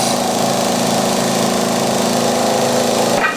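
A power grinder sanding a wooden lighthouse runs as a loud, steady, close motor drone with a buzzing hum. It continues unbroken for about three seconds, then cuts off abruptly.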